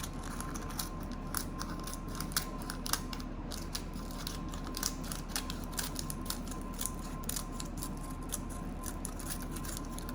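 Pastel wrappers are trimmed around the edges with scissors, a quiet, close run of small irregular snips and taps over a low steady background hum.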